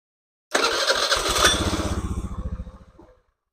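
A Honda Beat FI scooter engine, TPS sensor shimmed and running sluggishly, fires up and runs loud and close for about two and a half seconds, its pulsing exhaust slowing and fading as it shuts off.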